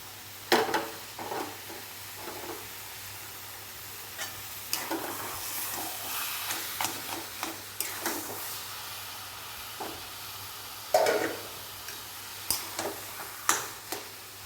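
Taro leaf greens, nearly dried of water, being stirred in a pan: irregular spatula scrapes and clatters over a low hiss, some louder strokes standing out, with no one speaking.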